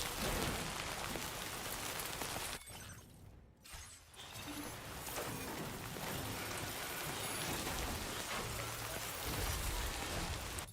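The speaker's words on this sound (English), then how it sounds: "look at the rain on the car" Steady rain pours onto a car in the video game Death Stranding 2, a continuous loud hiss of drops on the vehicle's surfaces with a brief dip partway through, and no talking.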